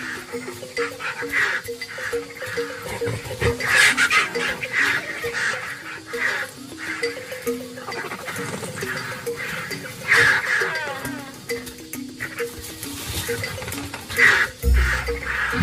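Vultures and a marabou stork squabble over a carcass on the savanna, a dense chorus of harsh squawks, hisses and croaking calls overlapping continuously at close range, with occasional louder bursts and a low thump near the end.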